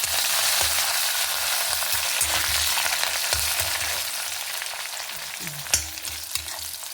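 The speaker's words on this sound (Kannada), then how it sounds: "ಸಾಸಿವೆ ಹುಟ್ಟುವಾಗಲೇ ಬೆಳ್ಳುಳ್ಳಿ ರೋಸ್ಟ್ ಆದ ಕರೆಕ್ಟ್ ಆಯ್ತು" Mustard seeds, garlic and neem leaves sizzling in hot oil as a tempering for Andhra-style gongura chutney: a loud, continuous close-up frying hiss with scattered crackles and pops, no talking.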